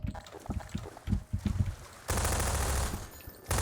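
Gunfire from the video game Half-Life 2: a few separate shots and thuds open the sequence, then a sustained loud burst of rapid automatic fire cuts off briefly and resumes.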